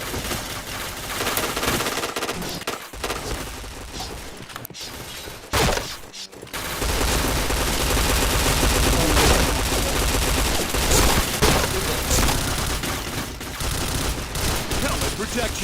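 Continuous loud automatic gunfire in a shooting video game, with rapid bursts and mechanical clatter that drop out briefly twice and then return, close and dense over the game's sounds.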